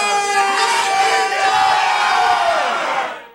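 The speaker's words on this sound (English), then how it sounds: "anything that you can get the crowd shouting at you from out on the floor is normally good fun" Pub crowd at a live Irish folk band gig shouting back at the musicians in unison, a loud sustained chorus of voices yelling together, swelling and then fading out at the end.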